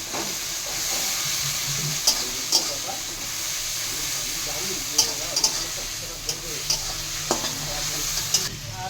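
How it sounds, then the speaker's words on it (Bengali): Chopped onion sizzles in a hot pan with a steady, loud frying hiss, broken now and then by the sharp clacks of a spatula stirring against the pan. "এবার আমি এই পেঁয়াজ কুচোটা দিব, পেঁয়াজ কুচোটা দিলাম"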